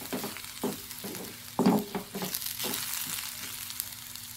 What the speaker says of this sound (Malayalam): താ ഞാൻ മസാല ഇട്ടു, നല്ലോണം വഴറ്റുക